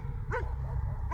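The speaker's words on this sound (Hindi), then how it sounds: "बाहर कहीं दूर एक कुत्ता लंबी हाउल" A dog gives a single short rising-and-falling howl, a horror-cartoon sound effect set over a low steady rumble, heard moderately loud and followed by the start of another cry.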